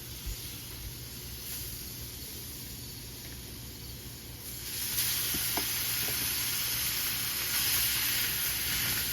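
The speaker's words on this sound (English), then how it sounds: "I'm going to add some butter on the grill. I'm going to let that cook down a little bit." Butter and jasmine rice sizzling on a grill, a steady close frying hiss that grows louder and brighter midway as the food hits the hot surface, with faint scraping and no talk.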